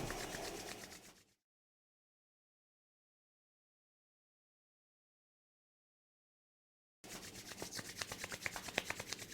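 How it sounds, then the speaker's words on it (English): Two palms rub briskly together to build warmth, giving a soft, dry, close swishing rasp at the start, then a long stretch of silence before another bout of rhythmic rubbing strokes. "Rub your palms together."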